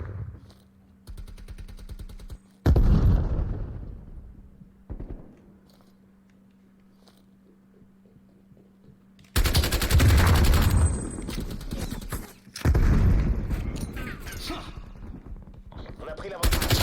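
Weapon fire in a PS5 shooter game comes in loud bursts of rapid automatic shots separated by quieter stretches, with a player's voice talking over parts of it.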